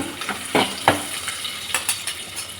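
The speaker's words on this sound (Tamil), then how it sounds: "இப்போ வந்து நம்ம கரைச்சி வச்சுருக்கிற குழம்பு வந்து இதில் சேர்த்துக்கலாம்" Sizzling and stirring in a hot pan, with a few sharp bursts of hissing as tamarind stingray fish curry liquid hits the oil, no voices.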